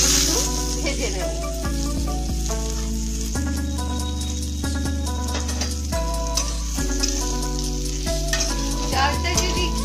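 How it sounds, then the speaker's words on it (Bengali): Gobindobhog rice toasting in ghee gives a steady sizzling hiss with occasional stirring, set under prominent background music. "সেটাকে আমরা এই ঘিয়ে একটু ভেজে নেব।"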